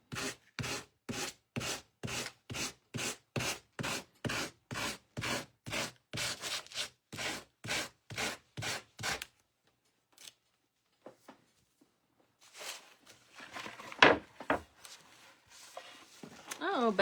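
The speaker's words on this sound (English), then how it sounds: "let's sand off the edges." Sandpaper rubs in quick, even back-and-forth strokes along the edges of a decoupage winter church craft piece, about two strokes a second for several seconds, then stops, followed by scattered handling noises and a brief voice.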